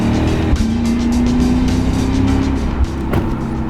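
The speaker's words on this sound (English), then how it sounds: "don't forget about this quad exhaust, which sounds great." A 2016 Lexus GS F with quad exhaust gives a loud, steady engine drone that rises slowly in pitch as if revving or accelerating. Two brief thumps break in partway through.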